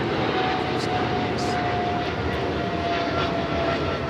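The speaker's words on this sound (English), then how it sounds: "We have that 777 freighter now rolling on 25 right." A Boeing 777 freighter jet rolls for takeoff on runway 25 right at LAX, its engines giving a loud, steady roar with a faint whine over the whole clip, heard from a distance without talk.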